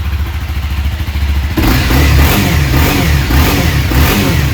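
A Honda CBR300R sport motorcycle engine idles close by with a pulsing, throaty rumble, then revs hard midway and holds a loud, buzzing high rpm to the end.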